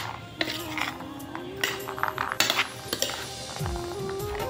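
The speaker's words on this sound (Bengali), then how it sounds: "তারপর সুন্দর মতো একটা চামচ দিয়ে মিক্স করতে হবে।" A spoon stirs and tosses a homemade salad in a bowl, giving scattered clinks and scrapes at close range. A faint tonal hum runs underneath.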